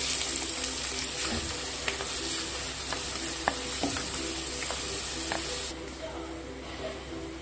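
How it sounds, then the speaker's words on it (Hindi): Onions frying in two tablespoons of hot oil in a kadai, a loud continuous hiss and crackle with scattered stirring taps, close up and without talk, the sizzle dropping slightly near the end. "अब हम इसमें प्याज ऐड करेंगे।"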